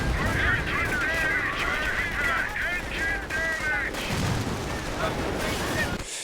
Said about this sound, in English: I have artillery on this